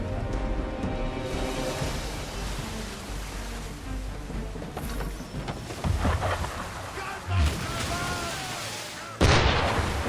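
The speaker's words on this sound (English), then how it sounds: "Why is he shooting at us?" Cannon fire from a ship in Assassin's Creed III, heavy booming blasts rolling over a dense, noisy battle scene, with sharper bursts near the end and voices talking through it.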